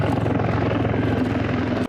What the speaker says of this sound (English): just raw power from two indigenous WZ-10 turboshaft engines